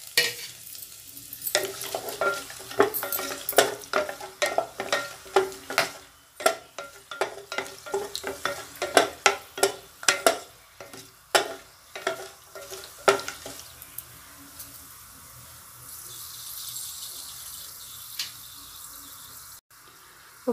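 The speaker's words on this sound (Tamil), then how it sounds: "இப்போ பட்டை கிராம்பெலாம் நல்லா பொரிஞ்சிருச்சு" Cinnamon and cloves sizzle softly in hot oil while a utensil clacks and scrapes in a steady, repeated stirring rhythm, then the stirring stops and only a faint hiss remains.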